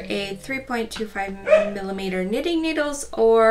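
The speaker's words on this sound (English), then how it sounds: "sorry about the dog in the background" A dog whines and yips in the background of a knitting project reveal, its short high cries running under steady close speech.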